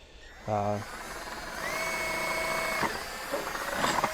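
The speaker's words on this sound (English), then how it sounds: "starting with the bottom hole, I'm gonna go ahead and drill through" A power drill whines steadily at high pitch for a couple of seconds, boring through metal on a Ford truck top tray, briefly preceded by a short low voice and followed by faint clatter.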